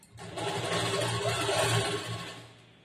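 A sewing machine whirs in one continuous run while stitching a lined blouse, close and steady, winding down near the end.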